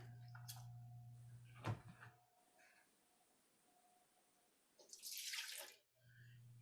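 Tap water running briefly for rinsing during a facial treatment, a faint hiss and splash near the end after a quiet stretch with a low hum and a single knock.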